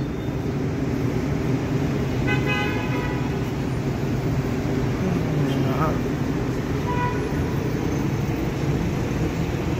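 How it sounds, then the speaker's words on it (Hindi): Heavy road traffic jammed near a hotel in Al Manar, with a steady roar of engines and several short car horn toots standing out around the middle, close and loud throughout. "ये ट्रैफिक अक्सर असर के वक्त जाम होती है"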